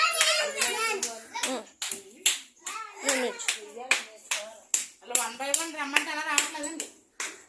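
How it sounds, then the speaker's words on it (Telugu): Children clap their hands in a quick, irregular patter mixed with their own high, sing-song voices calling out, close by and fairly lively. "క్లాస్ కొట్టండి అందరూ, గట్టి క్లాస్ కొట్టండి."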